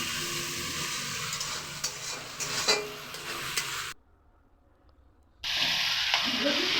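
A spice paste with Kashmiri chilli powder is stir-fried in oil for a Bengali chicken khichdi, sizzling steadily up close with stirring scrapes, drops to near silence for about a second and a half, then sizzles again.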